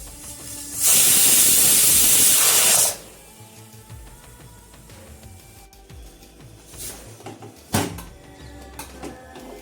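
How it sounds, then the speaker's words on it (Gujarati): A pressure cooker cooking moringa soup lets out a loud, sustained hiss of escaping steam for about two seconds, then falls quiet beneath faint kitchen background noise. "આપણે અહીંયા 4 સીટી કરી લઈશું"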